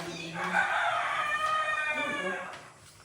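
Hens cluck and call together close by on a large farm in Cebu, a busy, continuous flock sound that fades slightly toward the end.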